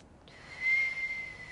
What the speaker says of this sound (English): Whistle if you can.